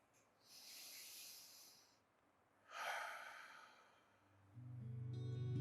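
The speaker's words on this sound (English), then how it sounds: "And just breathe here." Slow, audible breaths during a seated chair yoga class, two long airy exhalations a couple of seconds apart, quiet and close, with a low hum rising at the end and no talking.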